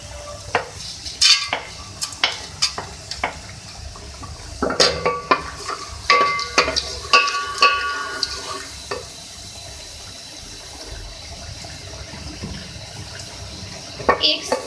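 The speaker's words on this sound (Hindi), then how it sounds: "सबसे पहले ऑयल में हम ऐड करेंगे यहाँ पे साबुत गरम मसाले" Whole garam masala spices go into hot oil for a white badami chicken korma, with clattering utensil stirs and soft sizzling coming in bursts, followed by a quieter stretch of low frying.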